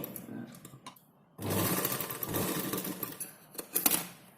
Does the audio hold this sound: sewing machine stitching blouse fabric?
yes